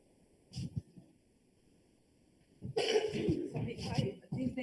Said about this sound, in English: this day I have a little coughing